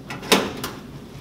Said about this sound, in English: you're going to have to open your generator door